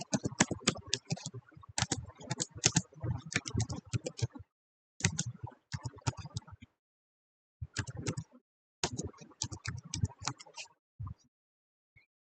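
Credit card number being typed on a computer keyboard: rapid clusters of close key clicks in bursts with short pauses, then a few sparse final taps.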